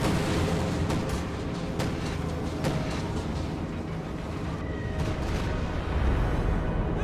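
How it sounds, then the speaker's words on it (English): Stuka dive-bomb explosions and battlefield fire in a WWII strategy game, a dense continuous rumble of blasts and artillery with sharp cracks scattered through it, loud and unbroken with no talk. "Stuka dive bomb in the base just nailed everything"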